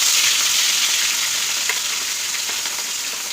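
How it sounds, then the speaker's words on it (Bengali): Large pieces of fish fry in deep oil in a home kitchen, a loud, continuous hissing sizzle that stays steady throughout, with no talking. "মাছ নিয়ে এসলো, এখন মাছ ভাজা করবো"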